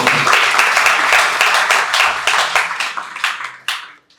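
Audience clapping at a Krishna Conscious spiritual community seminar, a burst of dense applause that rises, holds, then breaks into scattered separate claps before stopping.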